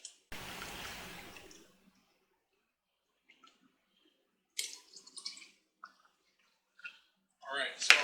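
Mango juice and then apple juice poured into a cup for a pulled pork marinade, heard as a steady liquid pour for about a second, then quiet, with small splashes and clinks later on.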